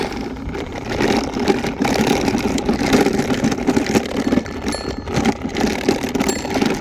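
An electric scooter with a repaired weld rolls over chunks of concrete on a driveway, making a loud, close rattling and whirring rumble with irregular clunks and jolts throughout, no talking.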